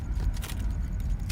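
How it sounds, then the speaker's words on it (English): A magazine swap in the video game Into the Radius 2: a brief clatter of metallic clicks and rattles over a low rumbling background, alone and fairly faint. "Changing the mag"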